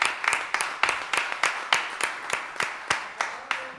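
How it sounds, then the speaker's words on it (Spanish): Sparse clapping from a small audience at a community arts center workshop, honoring its facilitators: a handful of distinct, fairly regular claps close by, spaced about a third of a second apart, with little crowd noise beneath. "Así que un aplauso para ellos."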